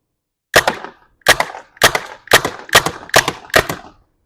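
A Tippmann-style paintball gun fitted with an MCS Gen3 box magazine fires seven sharp shots in a steady, evenly spaced string, loud and close with no talk over them.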